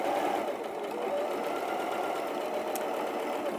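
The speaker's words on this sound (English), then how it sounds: "we're going to sew down the other side as well." A sewing machine runs a quarter-inch seam down the side of a pinafore dress, a steady, even, close mechanical whirr throughout without talk.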